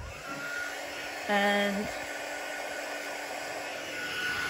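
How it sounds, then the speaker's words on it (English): A craft heat tool blows hot air over stamped embossing powder, a steady whooshing fan roar throughout with a brief louder tonal whine in the middle, while someone says a word. "So we'll bring the heat tool in again."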